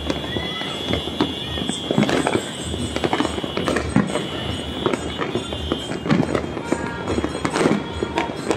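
Repeated New Year firework bangs and crackles pop at varying distances, overlapping continuously, with people chattering and exclaiming throughout.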